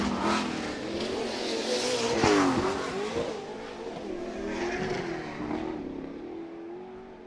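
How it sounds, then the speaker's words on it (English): Race car engines roar and rev continuously at a Minneapolis sportsman racing day, loud and sustained with pitch rising and falling as the cars accelerate, peaking near the middle before settling. "And Conrad now trying to make a little race of it now with Peterson."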